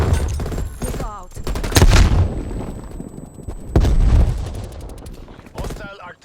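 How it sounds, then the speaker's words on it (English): Loud artillery blasts and gunfire in a military shooter video game, with heavy booms around two and four seconds amid continuous crackling shots and battle noise, with game voices calling out over it. "Hostile artillery targeting active. Artillery inbound."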